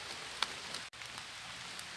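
Steady rain falls outdoors during mushroom picking, an even close patter with a few louder drop hits and no talking.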